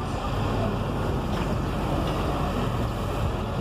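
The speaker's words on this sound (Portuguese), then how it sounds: "Ó, o carro pipa molhando com água aqui" A water tanker truck sprays water across grass outdoors, a steady broadband rushing hiss mixed with wind noise, continuous and fairly loud throughout with no voices.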